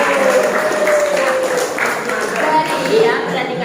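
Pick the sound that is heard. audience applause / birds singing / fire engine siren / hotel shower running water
audience applause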